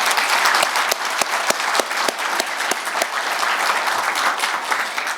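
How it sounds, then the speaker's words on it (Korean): An audience applauds staff at a government system launch ceremony in a Seoul international conference hall, steady dense clapping with a few sharp individual claps standing out near the front. "이 세 직원들에게 여러분 큰 박수 한번 보내주시기 바랍니다."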